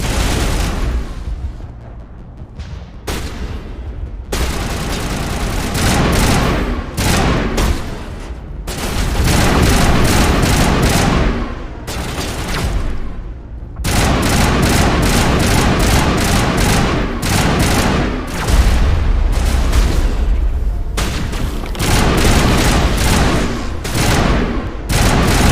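Sustained gunfire in Mass Effect Legendary Edition, during a fight to defend a colony: loud, dense rapid bursts and booming blasts fill the whole stretch, broken by a few short pauses, with no talk over it.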